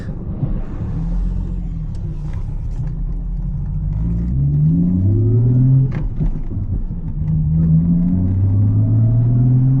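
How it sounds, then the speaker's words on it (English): A car engine rumbles and rises in pitch as the vehicle approaches quickly, growing louder toward the end with no talking. "Car's coming in hot."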